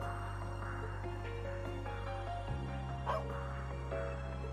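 A dog barks briefly in the video game The Legend of Heroes: Trails Into Reverie, a short sharp bark rising over a steady bed of game music.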